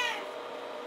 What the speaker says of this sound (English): Well, hi, kitty. You guys hear her?